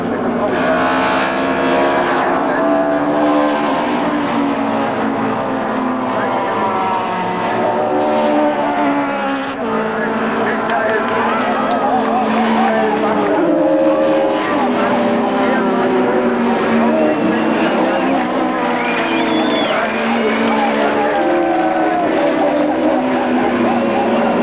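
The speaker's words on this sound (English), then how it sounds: "Tension rose to fever pitch as these two Audi and BMW drivers duelled for the lead. Their cars neck and neck" Audi and BMW race cars duelling wheel to wheel for the lead, engines screaming together in shifting, rising and falling tones that fill the whole stretch, loud and close, with no talk over them.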